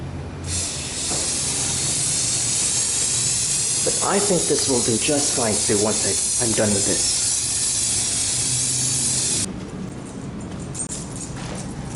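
A steady, loud hiss of water spraying onto the fabric of a Mountain Trails Cedar Brook two-person tent runs for about ten seconds, with a person talking briefly over it midway before the spray stops.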